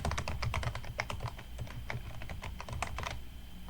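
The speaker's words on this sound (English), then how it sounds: "So I'm typing package install -y here." Rapid, steady keystrokes on a computer keyboard while entering a package install command, close and continuous clicking with a low hum underneath and no talking.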